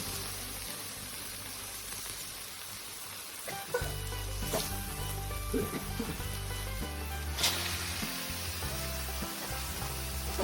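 Spices sizzling in hot oil in a wok over lowered heat for a Cantonese-style orange chicken, a steady dense hiss under faint background music, with a couple of sharper clatters as the pan is moved.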